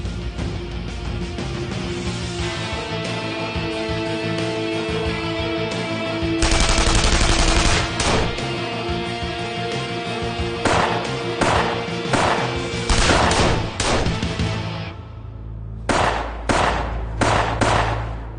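Rapid bursts of gunfire ring out during a police raid in a Turkish TV drama, with a long sustained volley followed by scattered sharp shots and quieter pauses, loud and close throughout.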